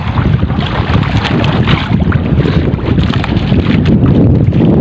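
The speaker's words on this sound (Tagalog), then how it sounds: "Ayan, mahangin pa rin." Steady northeast monsoon wind roars and buffets across the whole clip under a cloudy sky on a sea fishing trip, loud and constant, with a low rumbling rush like gusts hitting the mic outdoors near water.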